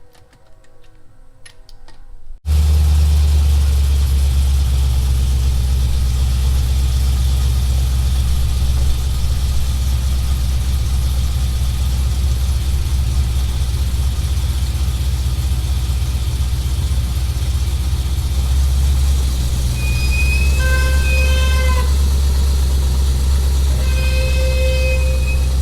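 A Chevrolet SS car driving down the road on new wheels, heard as a loud steady low engine and road rumble from inside the car, beginning abruptly and staying constant, with a few faint chimes near the end.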